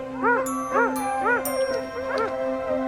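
Sled dogs bark and whimper close by in a few repeated bursts. The calls are rising and falling yips and whines.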